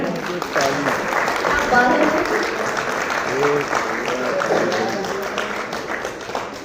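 Audience clapping at a Lucknow event, a crowd's applause rising and falling over several seconds with people talking and voices mixed in throughout.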